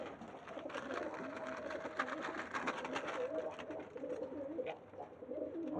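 Pigeons coo in a pigeon loft near clay nesting pots, a soft close warbling coo that repeats under a low background hum.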